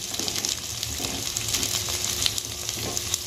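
Garlic, cashews and raisins sizzle and fry in hot oil in a pan while cooking egg korma, a steady close crackle with faint stirring and no talking.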